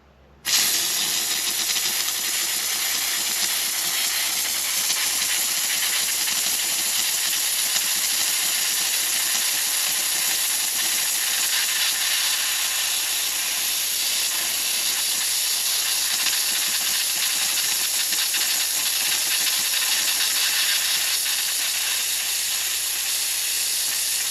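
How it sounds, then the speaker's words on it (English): A handheld garment steamer releases a steady, loud hiss of steam once its trigger is pulled, continuing unbroken and undiminished for over twenty seconds with no talking. "But I'll just pull the trigger here and just see how long the steam comes out."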